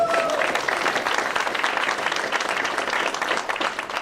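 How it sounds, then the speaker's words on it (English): Steady applause from an audience, many hands clapping at moderate volume in a continuous wash that stays even throughout. "Can we give another round of applause?"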